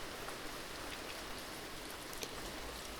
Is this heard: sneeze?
no